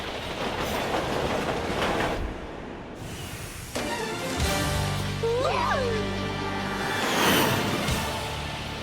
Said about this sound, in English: she was waiting for the train to pass